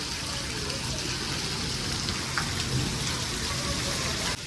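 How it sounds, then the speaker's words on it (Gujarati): Torrential rain lashes down on a highway beside flooded fields in Banaskantha district, Gujarat, amid strong wind, a close, uniform and loud drumming hiss that holds steady from start to finish. "હાઈવે ઉપર તો અત્યારે આમ ધૂમ મચાવી દીધો વરસાદે."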